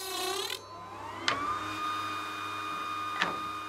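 Machinery in a monks' workshop making wooden crates for Chartreuse bottles, a steady whining motor hum with descending tones at first and two sharp clacks, moderately faint.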